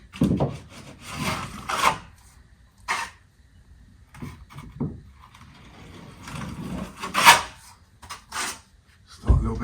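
A steel plastering trowel scrapes and rasps across wet plaster while a wall is being skimmed, in irregular rubbing strokes and short scuffs of varying loudness, close by.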